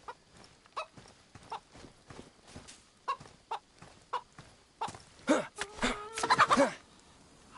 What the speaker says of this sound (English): I did hear a chicken.